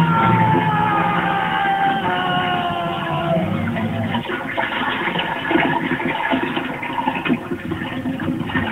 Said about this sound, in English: I finally flushed Prince Charming down the toilet